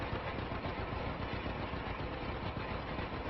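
A John Deere A tractor in Farming Simulator 25 labours uphill, its engine holding a steady, dense chugging drone with no pauses, close and continuous throughout.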